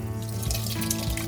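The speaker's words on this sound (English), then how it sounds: "I'm going to place the blended soup back into the saucepan." Thick blended carrot and coriander soup poured back into a saucepan, a close, continuous liquid gurgle and splash lasting just over a second, no talking.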